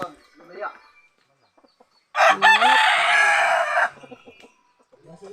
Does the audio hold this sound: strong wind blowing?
no